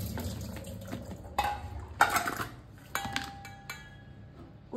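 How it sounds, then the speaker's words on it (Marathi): Vegetable washing water is drained off in a kitchen vessel, with splashing and trickling broken by several clinks and knocks of a metal pot and utensils, close up and moderately loud. "पुन्हा हे पाणी नितळून"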